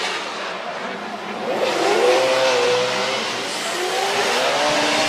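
A drift car at a Formula Drift Japan round, 2024, revs and holds a wavering, rising engine note over a continuous roar of track noise, loud and steady throughout.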